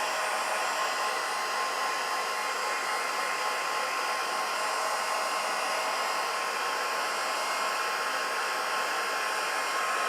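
A heat tool blows hot air over a stamped candle, giving a steady, loud, unbroken whoosh that holds an even level the whole time with no talking.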